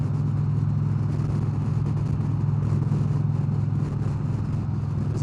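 A 2023 Harley-Davidson CVO Street Glide engine rumbles steadily in a low, even drone while riding, loud and continuous with wind and road noise and no clear gear change.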